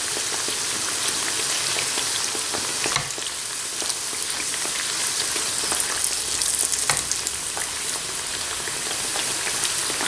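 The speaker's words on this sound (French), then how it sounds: "je prends une cuillère et je les arrose comme ça avec de l'huile chaude" Rghaif dough frying in hot oil while a spoon bastes it, a steady close crackling sizzle with a few louder spits and clicks of the spoon throughout.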